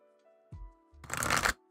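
Tarot cards being shuffled by hand, a brief dense riffle of papery flutters preceded by a soft tap, close and clear with no talking.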